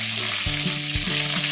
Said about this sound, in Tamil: அடுத்து கருவேப்பிலை போட்டுக்கலாம்.